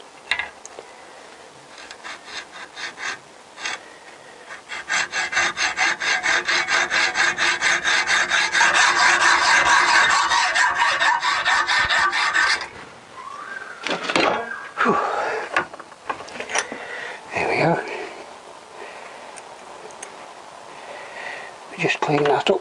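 Rasping strokes of a hand file on a metal swingarm part from a Honda CBR1000F held in a vise, a steady run of close strokes followed by scattered scrapes and handling noises with bits of talk.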